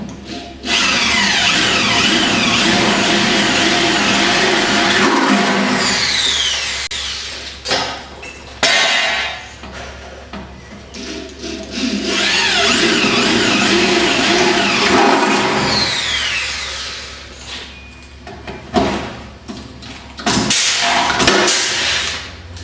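Power drill boring four or five holes through a bracket ahead of riveting it together, two long loud whining bursts with brief pauses and tool clatter between them.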